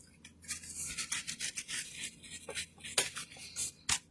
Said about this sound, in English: I'm just dry brushing back and forth